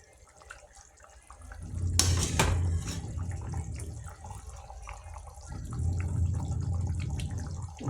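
Vatha kuzhambu, a tamarind curry, simmers and bubbles in a pan with soft liquid gurgles, rising in a couple of louder bursts of activity and then settling back to a low, steady bubbling.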